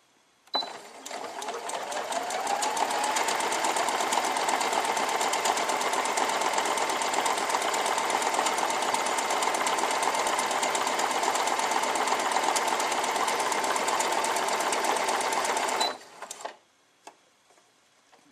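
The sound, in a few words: Merrylock computer quilting sewing machine sewing stretch stitch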